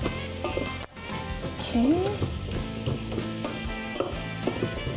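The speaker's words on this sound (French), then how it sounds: "je veux caraméliser un petit peu les oignons, la carotte, l'ail" Onions, carrot and garlic sizzle steadily in a pan for a tofu chili, stirred with scraping and clinks, close and continuous, under occasional speech.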